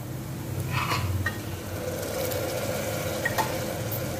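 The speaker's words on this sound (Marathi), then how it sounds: "पेस्ट जरा कांद्यावर परतून घ्या।" Ginger, garlic, chilli and coriander paste frying with onion on low flame for vatana batata usal, giving a soft continuous sizzle with a few scraping stirs early on, fairly close and moderately quiet.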